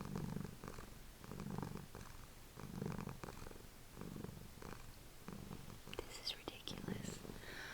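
A cat purring very close, a soft rhythmic rumble pulsing in slow, even cycles of breathing, faint and low, with a quiet voice murmuring over it.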